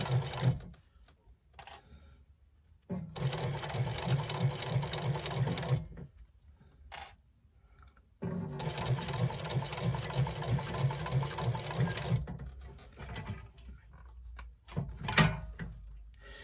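A sewing machine runs a curved seam in two long steady bursts of stitching with a pause for pivoting between them, plus a few short starts and handling clicks, heard close and alone.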